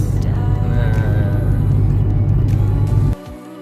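A 1995 Toyota Starlet fitted with a racing steering wheel and slightly lowered suspension drives along on a test drive, with a steady engine hum and road rumble heard from inside the car before it drops away sharply near the end.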